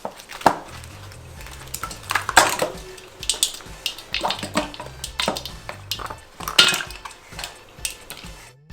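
Ice cubes clatter into a bowl of very cold water in a kitchen, a series of irregular clinks and knocks against the bowl with small splashes, close up and alone.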